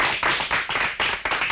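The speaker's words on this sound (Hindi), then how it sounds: "अब आप लोग चाहें तो ताली मार सकते हैं।" An audience at a street performance in an old Hindi film claps in a quick, uneven series of about half a dozen close, sharp hand claps.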